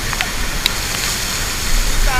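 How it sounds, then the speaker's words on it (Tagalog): Hulugan Falls in Laguna sends down a powerful, steady roar of water, filling the whole scene with broadband rushing noise that holds constant throughout, while a few brief speech sounds and small clicks break through above it. "Napakalakas ng hagis ng tubig, sobra."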